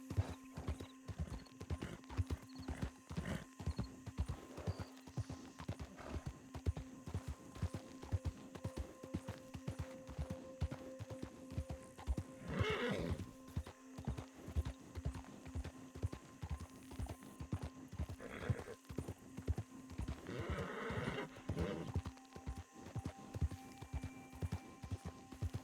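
Hooves of a galloping Turkmen horse in Red Dead clatter in a fast steady rhythm, close and continuous, with brief whinnies breaking through and some faint talk underneath.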